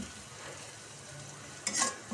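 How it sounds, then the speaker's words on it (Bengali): Onions frying in a pan give a steady, faint sizzle, then a brief louder burst of scraping or stirring near the end. "পেঁয়াজ ভেজে নিচ্ছি।"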